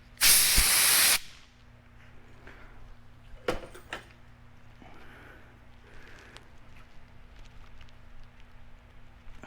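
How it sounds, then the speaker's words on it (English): A single loud hissing spray of Windex from a spray bottle bursts out close by, lasting about a second. Faint clicks and handling noises follow in a quiet room. "So we're going to spray some Windex"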